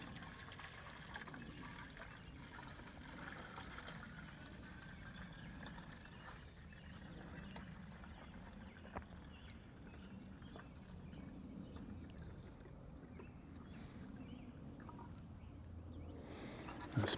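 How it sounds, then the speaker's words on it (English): Distilled water pours steadily into a half gallon garden sprayer, a faint continuous trickle and splash lasting many seconds, quiet and close, with no talking. "And then we're just going to fill this up with our distilled water."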